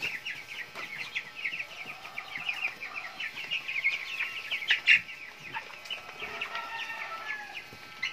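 Broiler chickens about 45 days old cluck and chirp continuously while feeding together, a dense, busy chorus of overlapping birds close by with a few louder calls standing out.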